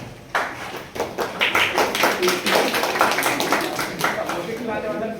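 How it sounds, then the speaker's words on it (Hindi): Students in a lecture hall give a burst of hand clapping that starts abruptly and continues as dense, slightly uneven claps at moderate volume for several seconds. "अब तालियां बजा रहे थे, बजाओ"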